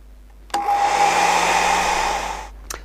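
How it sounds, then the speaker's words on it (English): A hair dryer switches on and blows with a steady, loud whooshing roar for about two seconds onto a watercolour painting, then cuts off with a couple of small clicks. "I'm going to put the hairdryer on it"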